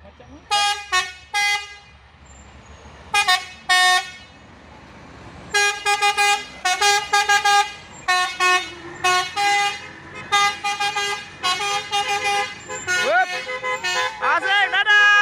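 An Isuzu Giga truck blasts its telolet musical horn in a traffic jam, sounding repeated loud melodic bursts in a choppy rhythm that run together more continuously toward the end.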